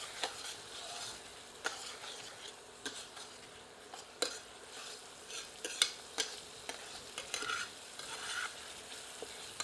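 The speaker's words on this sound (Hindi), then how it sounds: "इसे प्याज के साथ मिलाकर 2 मिनट भून लेते हैं।" Ginger-garlic paste fries with onions in a pan, giving a soft, steady sizzle with occasional stirring scrapes and clicks, quiet and close with no talking.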